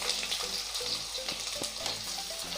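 Garlic, ginger and onion fry in hot oil in a pan, a dense continuous sizzle with light stirring scrapes and faint metallic clicks running steadily throughout, close and fairly loud.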